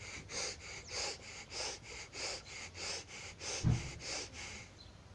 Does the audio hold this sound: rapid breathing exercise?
yes